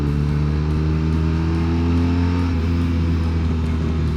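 A 2021 BMW R1250RT motorcycle cruising on a highway, its boxer engine droning at steady speed with a loud, close, continuous rumble and rising exhaust note, mixed with wind noise and no talking.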